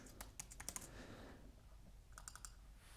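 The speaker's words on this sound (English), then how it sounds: "I'll type in this wing foiling system." Typing on a computer keyboard, quiet bursts of quick clicking keystrokes in two short runs separated by a pause, close and faint, with no speech.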